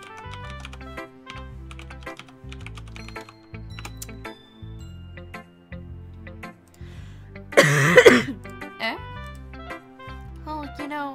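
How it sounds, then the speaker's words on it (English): Fingers tap steadily on a computer keyboard in quick, close clicks over a repeating musical backing, with a brief cough and throat clearing partway through. "I will type it in chat."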